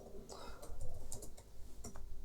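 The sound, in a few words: typing on a computer keyboard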